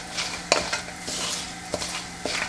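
Spices blooming in hot oil for a tadka while making khada masala chicken: a soft sizzle under stirring, with a few sharp pops and clicks from spices and the spoon scraping the pan.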